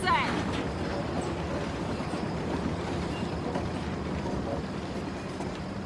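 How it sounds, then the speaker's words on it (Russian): Steady rumble of a train ride in Uncharted: The Lost Legacy, a continuous dense rolling noise at even loudness throughout, with no clear speech over it. "Едем на поезде"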